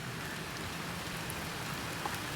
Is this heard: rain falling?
yes